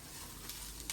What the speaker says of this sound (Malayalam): അപ്പുറത്ത് തേങ്ങാക്കൊത്ത് വറുക്കുന്നുണ്ട് കേട്ടോ